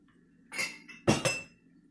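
A drinking glass is set down in a quiet kitchen, giving a few bright clinks: one short tap, then two sharper knocks close together, heard alone and up close.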